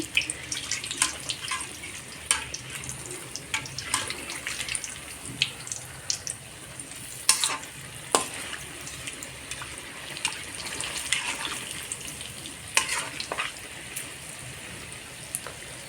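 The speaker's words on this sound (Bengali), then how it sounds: "আবারও কিছু সময় রেখে দেব যখন পিঠেগুলো ভালোভাবে ভাজা হবে নিচের থেকেই" Palm fruit fritters (tal bora pitha) fry in hot oil, giving a continuous crackling, spattering sizzle with scattered sharper pops over a long stretch, heard close and without talk.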